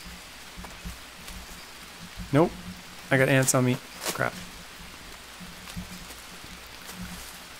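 Steady rain falls in the jungle of the survival game Green Hell, a soft, even hiss throughout, while someone talks briefly over it.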